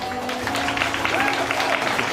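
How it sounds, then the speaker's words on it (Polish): Applause from a church congregation for children who have just sung, a steady wash of clapping with voices mingled in, moderately loud and continuous. "jeszcze raz duże brawa dla Was"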